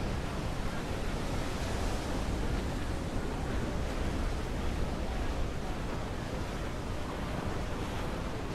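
Rough sea waves surge in Assassin's Creed IV Black Flag, a loud, constant roar of churning water and wind that holds steady throughout with no pauses.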